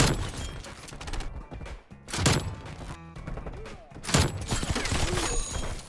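Rapid bursts of video game gunfire crackle in dense volleys with short gaps, loud and close, punctuated by heavier impacts, from a shooter featuring the R1 Shadowhunter crossbow.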